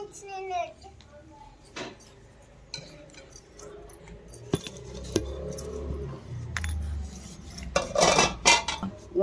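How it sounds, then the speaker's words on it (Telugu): Garlic is pounded in a stone mortar with irregular knocks and grinding scrapes, clattering nearby under intermittent talk, with a louder burst of pounding near the end. "ఎల్లిపాయలు నూరుకుంటున్నా"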